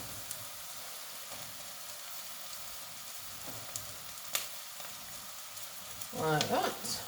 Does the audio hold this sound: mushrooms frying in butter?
yes